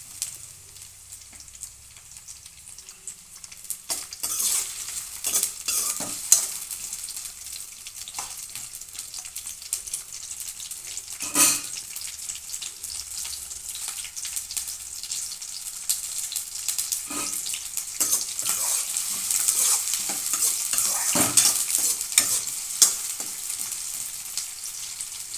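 Chopped onion pieces, a large onion, sizzle steadily in hot oil in a pan while being stirred, with intermittent scraping clicks over a continuous fizzing hiss, close and moderately loud.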